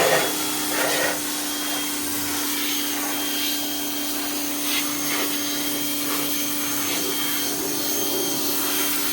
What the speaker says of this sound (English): pressure washer's ready